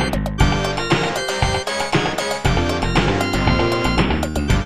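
Music from the SNES fighting game Primal Rage plays as a dense, loud synthesized rock track with punchy rhythmic hits and melodic lines, continuous throughout.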